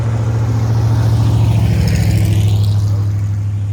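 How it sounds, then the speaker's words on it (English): An old, raggedy truck drives past close by, its loud, steady, throbbing engine rumble filling the whole stretch with no voices. "raggedy truck getting ready to come past."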